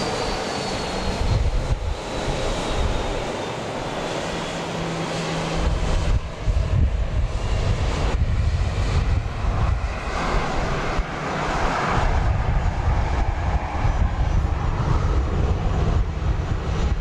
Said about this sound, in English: This is flight 1271. 737-700 off to Albuquerque,